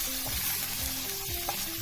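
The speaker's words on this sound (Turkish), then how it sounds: "soğanla biberimi kavuruyorum" Steady sizzling and frying of onions and green peppers in a pot, with occasional scraping and stirring sounds, close and continuous.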